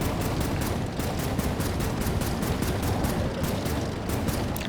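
Rapid, steady gunfire from an Air Wars III aircraft shooting game, a dense rattling stream of shots that fills the whole stretch at constant loudness, with no voices over it.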